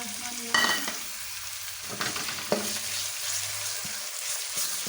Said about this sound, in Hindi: अब अच्छी तरह प्याज को भून लेते हैं